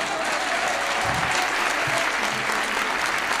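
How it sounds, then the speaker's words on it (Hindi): Loud, steady audience applause at a Hindi humorous poetry performance fills the clip from start to finish, dense and unbroken with no voices over it. "भाई साहब के लिए ताली बजाओ एक बार जोर से।"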